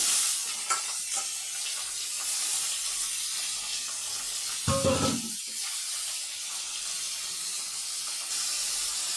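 Vegetables frying with salt and turmeric, stirred in a pan, giving a faint steady sizzle broken by a few scrapes and one louder burst of stirring partway through.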